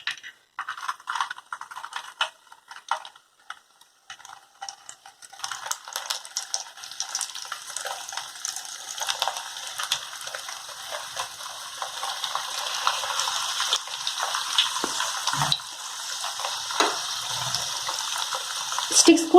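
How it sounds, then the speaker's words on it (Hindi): Semolina and cheese sticks drop one by one into hot frying oil, building from scattered crackles into a steady, dense sizzle that grows louder and fuller over time, close by with no one talking. "अब हम लोग अपने ऑयल में एक एक करके सारे स्टिक्स को डाल देंगे।"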